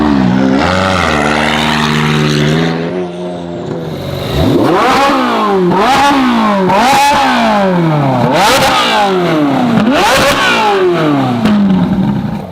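Ferrari 458 supercar V8 engine revving hard as it pulls away, loud and close, with repeated rising rev sweeps and gear changes after an initial smooth drone.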